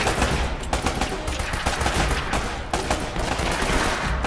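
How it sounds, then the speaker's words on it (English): Gunfire rattles in Uncharted: Drake's Fortune as a dense, loud burst of rapid shots. The shots run almost without a break for several seconds and crack close at hand. "Thank you, you're finally shooting."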